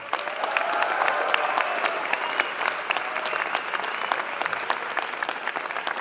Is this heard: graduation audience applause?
yes